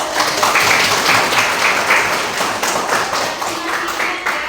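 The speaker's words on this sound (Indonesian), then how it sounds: "Oh, tepuk tangan dulu." A classroom group claps hands in applause, a busy, fairly close patter of many claps that continues steadily and eases slightly toward the end.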